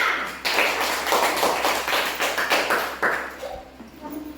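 A fourth-grade class claps hands together in a classroom, a run of quick, rhythmic, fairly loud claps in unison that thins out toward the end.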